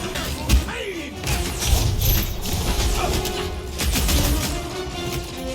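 Elevator machinery in the Marvel's Guardians of the Galaxy video game clanks, grinds and ratchets with heavy thuds and metallic rattles, loud and close throughout.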